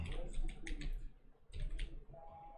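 Typing on a computer keyboard in an office: two short bursts of quick key clicks, close and moderately loud, with a brief pause between them and a faint tone near the end.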